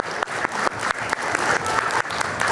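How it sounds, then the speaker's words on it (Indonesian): Studio audience in an Indonesian TV talk show breaks into applause, a full, even wash of many clapping hands with sharp bursts recurring through it, close and loud throughout. "boleh tepuk tangan, silakan"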